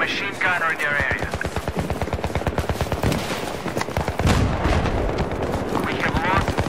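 Rapid sustained machine gun fire in a video game rattles in long, rhythmic bursts with heavy booming impacts, close and loud, while voices speak over the gunfire.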